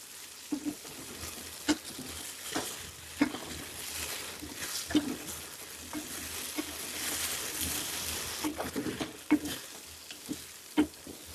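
Raw banana pieces sizzle steadily in a pan with turmeric as they are stir-fried for a quick palya, with periodic sharp scrapes and taps of a spoon stirring them, fairly soft and close, no talking.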